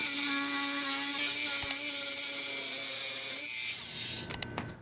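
A Dremel 575 right-angle attachment cutting nails or metal gives a close, high, steady motor whine that winds down partway through, followed by a few sharp clicks.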